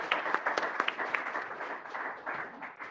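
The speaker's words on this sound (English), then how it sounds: "let's give everyone a round of applause" Audience at a Duke startup showcase gives a soft, steady round of applause, with crisp individual claps standing out near the front of a fairly distant wash of clapping.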